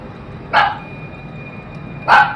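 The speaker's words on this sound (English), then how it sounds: "And the dog just started barking for no fucking reason." Two sharp dog barks about a second and a half apart, fairly close, over a quiet background with a faint steady tone.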